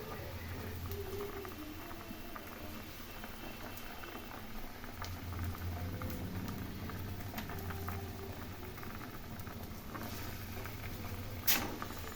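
A pan of katla fish curry bubbles and simmers steadily throughout, a soft continuous gurgling patter with a brief louder clink near the end.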